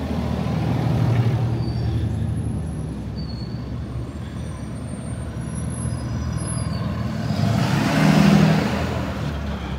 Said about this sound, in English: try not to get hit by this truck